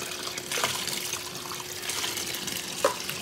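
Tap water runs into a portable washing machine from Amazon, a steady close splashing fill with a brief clunk near the end, no voices.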